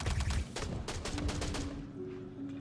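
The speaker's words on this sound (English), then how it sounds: "Those are shotguns." Shotgun fire in the video game Star Citizen, a close, loud string of rapid overlapping blasts that decays into a lingering rumble and hum, with no talk over it.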